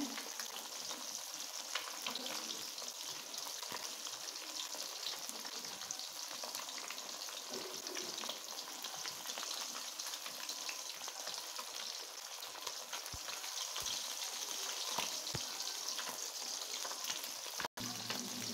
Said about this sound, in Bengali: বন্ধুরা, আমার এই মাছটা ভাজা হয়ে গেছে।